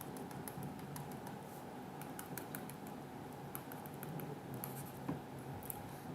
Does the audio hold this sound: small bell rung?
no